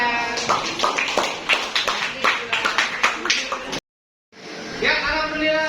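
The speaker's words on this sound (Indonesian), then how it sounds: "Sekali lagi tepuk tangan" A group of participants at an academic supervision session claps for the presenting group, a scattered run of distinct claps with some voices mixed in, cut by a brief silence before the clapping resumes.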